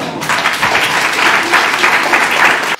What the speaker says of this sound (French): je suggère que nous fassions des félicitations par l'acclamation